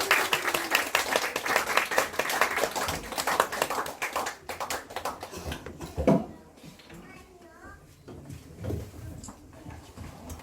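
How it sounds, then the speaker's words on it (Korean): Applause and clapping from a church audience welcoming a guest professor before a creation-science lecture, dense and steady for about four seconds, then thinning into scattered claps and murmuring voices with a few louder bumps. "큰 박수로 환영 인사 부탁드리겠습니다"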